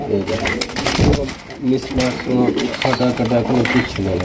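Lahori pigeons coo continuously in a market, their throaty, repeated calls close and fairly loud, with a voice talking over them.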